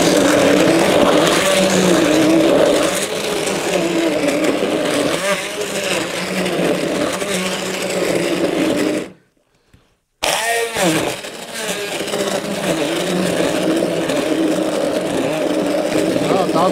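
A kitchen blender running at its highest setting, chopping chunks of lemon and garlic with water: a loud, steady, grinding motor whir that cuts out for about a second and then starts again.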